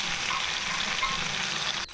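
Cabbage leaves go into a pan of frying broad beans on a gas stove, setting off a steady, close, crackling sizzle that continues evenly before a brief dip at the end.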